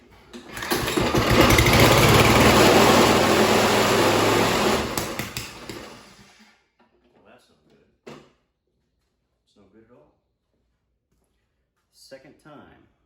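A Toro lawn mower with a Kohler engine, suspected of a bent crankshaft or bad blade, roars loudly and steadily for about five seconds, then cuts out, leaving near silence broken by a few brief faint voice fragments.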